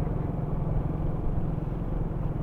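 A motorcycle riding over a bumpy, potholed road full of humps, its engine droning steadily and close with a rough, rumbling texture, no voices.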